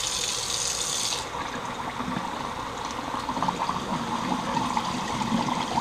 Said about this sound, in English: So let's turn on the cold water.